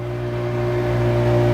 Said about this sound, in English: Softly playing over the hum of their motor